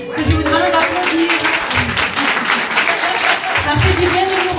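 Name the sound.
audience applauding a conference speaker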